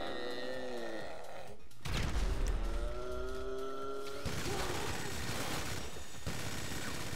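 A minigun fires in the video game GTA Online as a continuous roaring burst of rapid gunfire, loud and dense, with whining tonal sweeps layered over the barrage.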